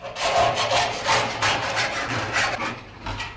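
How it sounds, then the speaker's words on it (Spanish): Fine fretsaw strokes cutting through silver sheet at a silversmith's bench, a quick steady rasping rhythm of short repeated strokes, close and fairly loud with no talk. "El platero recorta el dibujo de la chapa y cala los huecos con la segueta."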